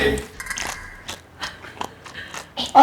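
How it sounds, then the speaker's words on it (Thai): Crunchy, squishy chewing of a bullet jellyfish eaten raw and still moving, with repeated wet bites close to the mouth while people talk over it. "คี้ยวเคี้ยวเคี้ยว รีบเคี้ยวมันยังไม่ตาย"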